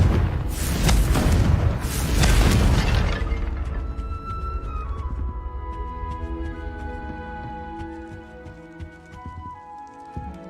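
A Confringo spell explosion in the Hogwarts Legacy video game: a loud broadband blast with shattering debris for about three seconds, then a long ringing, chiming magical decay that fades slowly with no talk over it.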